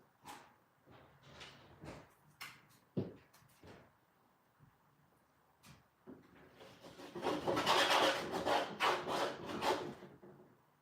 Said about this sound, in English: Rub off some of the excess glue.